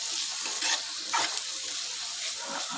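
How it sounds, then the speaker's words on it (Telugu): Coriander powder and chicken masala frying in oil for a capsicum curry, a soft steady sizzle with a couple of brief stirring scrapes, close and alone. "1 స్పూన్ చికెన్ మసాలా వేసుకున్న తర్వాత ఇవన్నీ మనము మంచిగా ఆయిల్లో ఇట్లా ఫ్రై చేసుకోవాలి"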